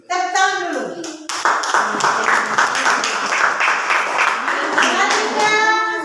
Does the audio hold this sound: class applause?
yes